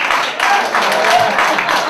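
Comedy club crowd applauding steadily throughout, a dense wash of clapping with no clear pauses, with some faint voices mixed in.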